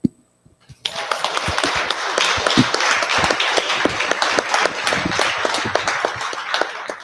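Applause fills a Sunday morning satsang service at a spiritual centre, a dense, sustained crowd clapping that starts abruptly after a brief pause and carries on steadily, loud and close, with individual claps poking through.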